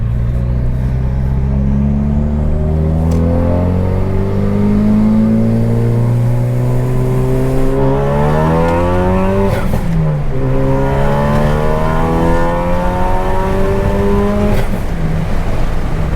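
A 2017 Ford Focus RS with a Stratified E40 auxiliary fuel tune accelerates hard up an on-ramp, its engine note climbing loudly through the revs, dropping at a gear change, then rising again.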